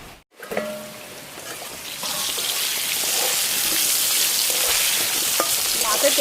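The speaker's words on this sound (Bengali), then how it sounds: "মাছে তেল হয়েছে, মাছে তেলে আলু ভাজা হয়ে গেল।" Potatoes seasoned with salt and turmeric fry in leftover fish oil, giving a steady, close hiss and sizzle that builds after a brief silent start and holds loud and even, with no talking.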